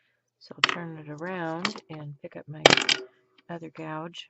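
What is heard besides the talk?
wood carving gouge clunking on a desk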